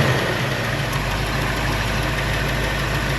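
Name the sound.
car engine idling with a slight tick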